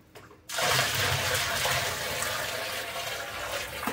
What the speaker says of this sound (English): I'm gonna add my 10 gallons of cold water